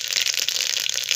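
Mustard seeds sputter in hot oil and ghee in a pressure cooker, a dense, close crackle of rapid popping and sizzling over a brief moment.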